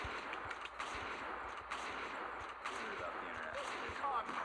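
Rapid gunfire with explosive bullets in a video game, quick cracking shots repeating in bursts over a dense background, fairly faint in level.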